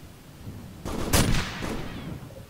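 A single heavy gunshot in a video game shooting battle, followed by a short echoing tail and low rumble, with no talking.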